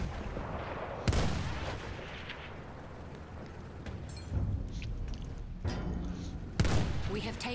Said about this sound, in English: Mortar. Big mortar gun.